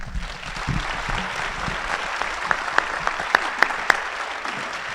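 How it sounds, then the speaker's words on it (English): Steady applause from a gathering of delegates at a candidates' event, a continuous patter of many hands with a few sharper, louder claps standing out near the end. "please join me with a round of applause"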